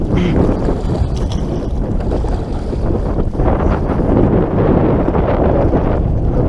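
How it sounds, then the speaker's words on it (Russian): Loud, steady wind roars and buffets the microphone, a continuous blustery rush with gusts swelling throughout. "Я замучусь таким ветром."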